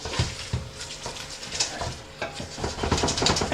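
Minced beef stirred around a pan for chilli con carne, with steady scraping and clinking of the utensil over a soft sizzle, continuous and close throughout.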